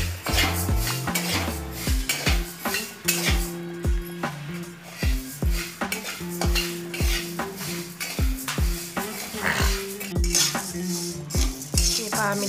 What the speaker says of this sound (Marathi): थोडे थोडे करून सर्व धने छान असे भाजून घेऊया।